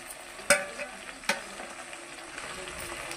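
Chopped vegetables and fried okra drop into a hot pan for sambar, giving two sharp clattering hits followed by a steady low sizzle with faint stirring. No voices are present.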